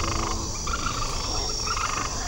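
A chorus of frogs croaks steadily, dense repeated calls overlapping in a continuous background with faint insect chirping, no voices.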